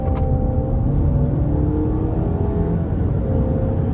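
A 2021 Jeep Cherokee Latitude Lux with the 2.0 engine accelerates hard, its steady loud engine drone rising in pitch with strong road rumble, heard from inside the cabin with no talking.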